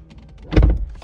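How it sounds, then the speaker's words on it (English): Rolls Royce Phantom door closing by button from inside the car: a quiet motor whir builds into a single solid thunk as the door seals, heard close and alone. "you have the buttons to close the door right here"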